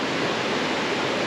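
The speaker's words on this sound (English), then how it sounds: "So nice just to hear the sound of running water in the hills." A small mountain stream with stepping stones rushes steadily in the hills, a constant broadband wash of running water with no voices.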